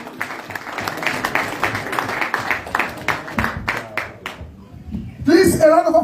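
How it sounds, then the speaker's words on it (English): A crowd claps at a meet-and-greet event in Birmingham honouring a former governor of Edo State: scattered, uneven clapping rises and dips, then fades before a loud voice breaks in at the very end. "a round of applause again for you"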